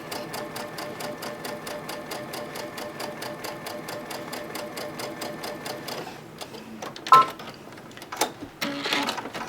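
A sewing machine stitches a Sun Rays quilt block, its rapid, even needle clatter running steadily for about six seconds before stopping, followed by a few faint handling clicks and soft noises nearby.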